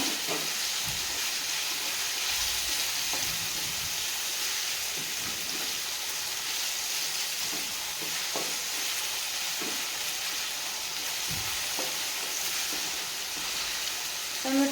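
Tomatoes sautéing in a pan make a continuous close sizzle and crackle, with scattered taps and scrapes of stirring throughout and no talking.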